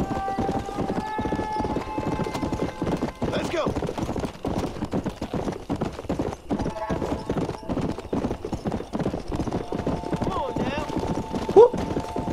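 Horse hooves gallop in a fast, steady clip-clop rhythm in the video game Red Dead Redemption, close and continuous, with someone talking over them.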